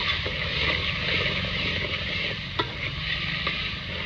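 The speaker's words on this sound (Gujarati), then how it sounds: "હવે હરખી રીતના મિક્સ કરી દઈએ" Chibhda vegetable curry with tomato, onion and spices being stirred in a pan, a soft steady scraping and gentle sizzle with a sharper knock of the spoon near the middle, no voices.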